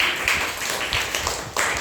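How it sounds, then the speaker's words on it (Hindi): Students in a lesson on the Jawahar Navodaya Vidyalaya entrance exam give a round of applause for a correct answer: a short burst of dense, scattered clapping, close and fairly loud. "एक बार इसके लिए जोरदार ताली"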